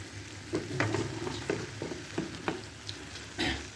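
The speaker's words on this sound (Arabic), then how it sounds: "نخلط حركه مليح." Chopped vegetables stirred in a hot frying pan: a steady sizzle with repeated scraping strokes of the spoon every half second or so, close and fairly quiet, no talking.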